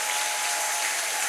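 Dense, sustained applause from a church congregation, a steady wash of clapping at even loudness from start to finish.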